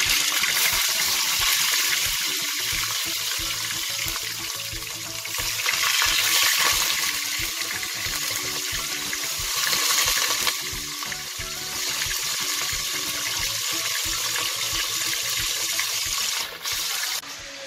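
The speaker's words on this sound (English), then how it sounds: "Let's start frying our" Loud, steady sizzling and crackling of milkfish belly deep frying in hot oil in a pan, with bursts of stronger spattering swelling and fading throughout.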